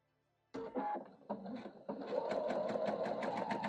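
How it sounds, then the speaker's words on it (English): A sewing machine stitches quilt units for a basket wall hanging, starting with a few slow anchoring stitches, then settling into a fast, even whirring run, close by. "Take a few anchoring stitches."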